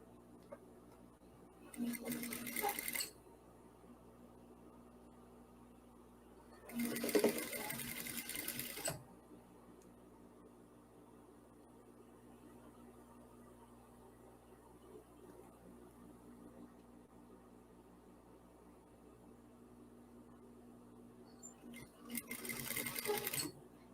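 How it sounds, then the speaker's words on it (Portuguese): A sewing machine runs in three short bursts of rapid stitching on a folded fabric hem finish, with quiet pauses of faint room noise between runs. "E aqui eu vou costurar."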